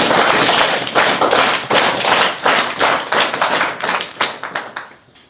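A crowd applauds loudly and steadily for several seconds at a school event in Chikhar, Shimla, with dense overlapping claps that taper off at the end.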